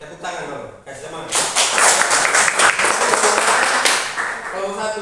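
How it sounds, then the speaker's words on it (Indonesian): Classmates clap for a student group in a classroom, a burst of applause that swells after a short spoken lead-in and holds steady before tapering as voices return. "Tepuk tangan dulu, kasih semangat."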